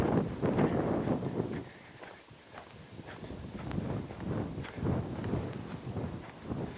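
A horse lopes around an outdoor pen, its rhythmic hoofbeats thudding in repeating bursts against light wind noise.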